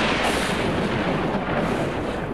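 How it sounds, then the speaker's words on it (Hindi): Low, continuous rumble of thunder from an approaching storm, loud and steady throughout with no rain or talk. "लगता है तूफान आ गया"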